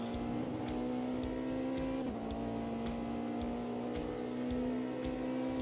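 Porsche race car in the Automobilista 2 sim racing game, a steady sustained engine drone holding a near-constant pitch with a brief dip partway through, loud and continuous with no talking.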